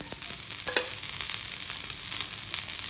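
Thick onion slices roasting in a little oil on a tava for chole, a continuous gentle sizzle with faint stirring scrapes, close and low in level.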